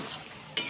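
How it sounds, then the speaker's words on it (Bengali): Boiled mung dal being stirred with spices in a pan, a soft continuous sizzle under gentle mixing, ending in a sharp brief scrape or clatter near the close. "সিদ্ধ করে রাখা মুগ ডালটা দিয়ে আমি আস্তে আস্তে ভালো করে মশলার সাথে ডালটাকেও মিশিয়ে নিই"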